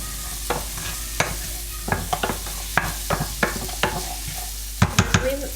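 Crab claws and body sautéing in a pan for crab curry, a steady sizzle broken by repeated scraping and clacking stirring strokes, close and fairly loud.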